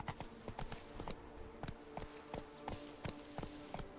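Horse hooves clip-clop at a steady trotting rhythm in The Witcher 3: Blood and Wine, sharp repeated knocks over a faint background hum, with no talk.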